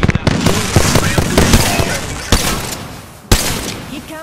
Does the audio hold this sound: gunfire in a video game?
yes